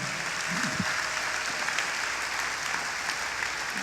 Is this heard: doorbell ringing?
no